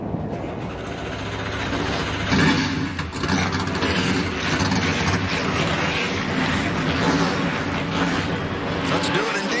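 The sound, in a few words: NASCAR truck engines starting at Pocono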